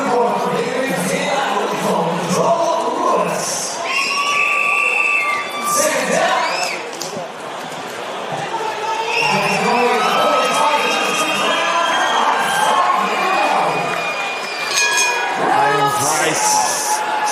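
Crowd at a boxing-style fight in Metro City cheering and whooping during the sixth and final round, loud rising and falling roars with shouts, heard under continuous commentary.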